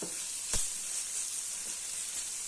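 Pepper frying in a pan on a breakfast of tomato and eggs gives a continuous, steady sizzle, with one brief louder clatter of stirring.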